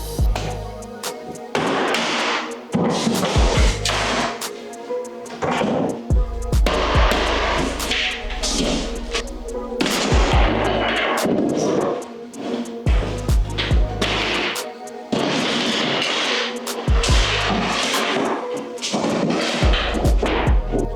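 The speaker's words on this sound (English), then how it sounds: "now everything else in this kitchen is just going to get destroyed" Kitchen demolition during a renovation, with cabinets being smashed and torn out: heavy thuds, crashes and splintering impacts repeat in loud, irregular bursts close by with brief pauses between them.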